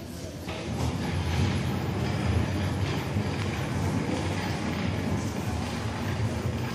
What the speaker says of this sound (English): Let's go see the train.